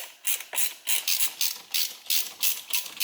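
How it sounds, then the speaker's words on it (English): A ratchet tightens the T30 screws holding the airbag on an Infiniti G37 steering wheel, giving close, loud bursts of rapid clicking in a steady rhythm of about nine strokes, with no talking. "Torque those down and you'll be all set."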